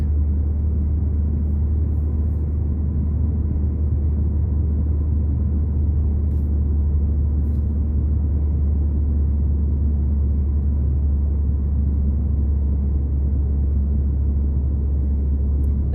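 A car rolls downhill, its low engine and road rumble droning steadily from inside the cabin; any braking is not distinct from the continuous hum.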